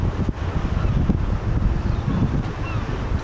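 Strong wind buffets the microphone outdoors on a street in Aberdeen, Scotland, making a loud, continuous low rumble with gusty surges throughout and no speech over it.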